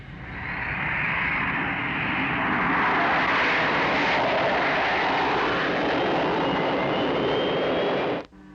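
Aircraft roaring into takeoff from a launch pad in the Captain Scarlet and the Mysterons series, a loud, sustained engine roar that swells and holds steady before cutting off abruptly near the end.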